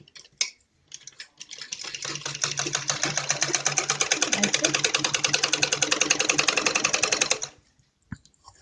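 Sewing machine running a long continuous straight seam, stitching net fabric onto a lining for a Patiala salwar; a steady, loud rapid whir lasting several seconds, beginning and ending with brief handling clicks.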